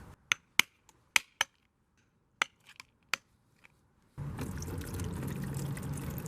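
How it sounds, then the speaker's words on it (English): Acid glugs and splashes out of an opened car battery, a steady close liquid rush following a run of sharp knocks and taps. "Just going to pour out that acid there."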